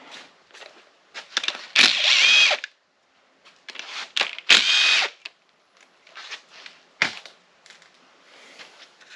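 A power drill whirs in several short bursts of varying length while removing lifter trays from an LS engine, separated by pauses and small clicks, loud and close.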